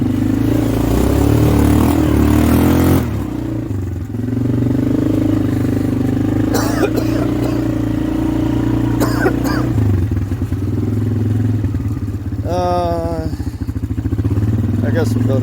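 Polaris 425 ATV engine droning steadily as it rides tight, technical wooded trails, with revs rising and falling and clattering bumps along the way, close and loud, while a rider talks over it.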